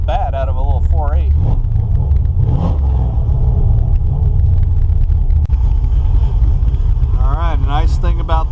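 LS 4.8 V8 truck engine fitted with FiTech EFI, idling with a steady low rumble and blipped throttle revs rising and falling, heard close alongside someone talking throughout.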